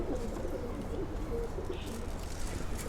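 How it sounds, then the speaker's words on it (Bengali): Pigeons, including a female, coo softly and repeatedly against a dense, steady background of other birds and ambient noise. "কবুতরটি দেখুন, মাদি কবুতরটি"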